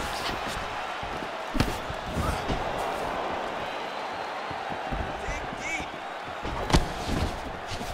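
A flush right-hand punch lands with a sharp thud in the EA Sports UFC 4 fighting game, one of a few hard impacts over constant crowd noise while an announcer calls the action.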